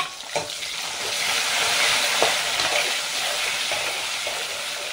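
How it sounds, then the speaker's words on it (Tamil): Tomato and onion sautéing in oil for an Andhra-style stuffed brinjal masala, a continuous close sizzle with a few soft scraping stirs and brief knocks, no talking. "இப்போ தக்காளி போட்டுட்டு நல்லா வதக்கி வச்சுக்கலாம்."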